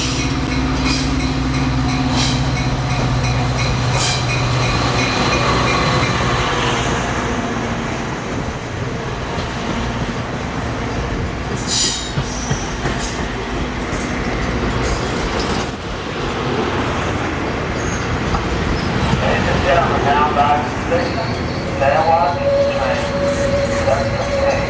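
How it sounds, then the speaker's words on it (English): An Amtrak San Joaquin passenger train led by P5A-horned locomotive 229 rolls into a station with a steady rumble and squealing wheels, a horn sounding faintly, and people talking nearby. "who should come rolling in on a San Joaquin train but my old friend 229"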